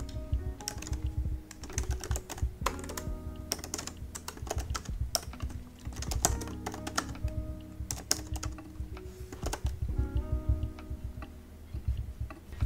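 Rapid keystrokes on a computer keyboard while text is entered into a digital vision board, a steady close-up run of clicks and taps with brief pauses, no voices.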